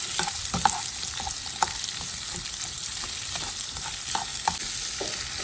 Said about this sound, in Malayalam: നമ്മൾ ജസ്റ്റ് ഒന്ന് സോട്ട് ചെയ്തെടുത്താൽ മാത്രം മതിയാവും